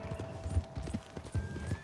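Horse hooves clip-clopping in the video game Red Dead Redemption 2, an irregular walking rhythm of close, fairly faint thuds over a low background hum.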